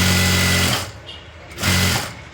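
A sewing machine stitches piping onto a blouse in two short whirring bursts with a brief pause between them. The sound is close and fairly loud, with no talk over it.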